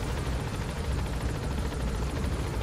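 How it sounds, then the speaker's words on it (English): Helicopter in Metal Gear Solid V: The Phantom Pain, a steady, loud rotor thrum with a rhythmic chopping pulse, continuous and close, with no talking over it. "I meant for like the helicopter thing."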